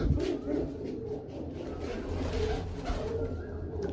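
Pigeons inside a coop give low rolling coos, a few overlapping throaty calls nearby, moderately loud against a light background rustle.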